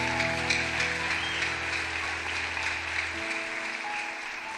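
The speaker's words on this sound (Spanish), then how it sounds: "Alguien dele palmas de alabanza a Jesucristo." A church congregation claps together in a sustained, even patter of applause, moderately distant, with a low hum underneath that cuts out near the end.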